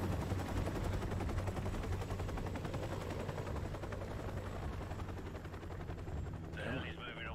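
Steady rotor thrum of a helicopter overhead in Call of Duty 4: Modern Warfare Remastered, continuous and loud, with rapid bursts of gunfire mixed in and a short voice near the end.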